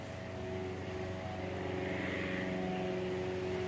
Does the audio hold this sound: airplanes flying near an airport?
yes